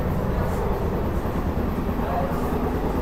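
A modern Sealdah division train near Kalyani station runs along in rain, giving a steady, close rumble of wheels and carriage with no pauses.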